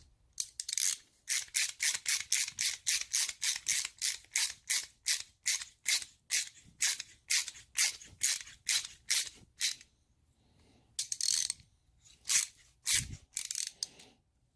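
A hand ratchet tightens a 6mm bolt on Honda Grom MSX125 motorcycle race handlebars, giving rapid, evenly spaced clicking strokes up close, a brief pause, then a few more bursts of clicks.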